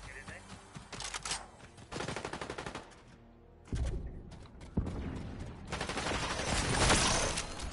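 Rapid automatic turret fire in Fortnite, loud dense bursts broken by a brief lull and then resuming heavier, with mechanical clatter and a voice talking in places.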